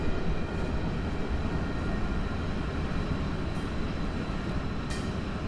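A Georgia short line train street running through Sandersville, a loud continuous low rumble and rolling clatter of the passing train, steady throughout with a faint squeal near the end.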